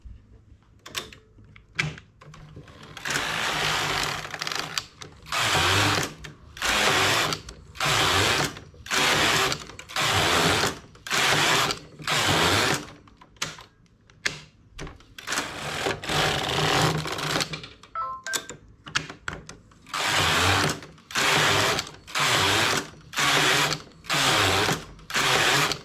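A knitting machine works rows of stitches in repeated loud mechanical bursts, each a whirring, clattering carriage pass, separated by short pauses, close and alone without talk.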